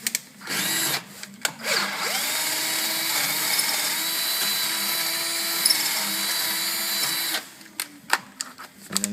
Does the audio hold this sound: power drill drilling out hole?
yes